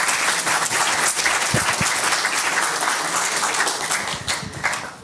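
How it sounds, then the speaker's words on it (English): An audience gives a steady, dense round of applause after a talk at a cloud-native conference session in London, the clapping sustained and fairly loud throughout before easing slightly at the end. "round of applause."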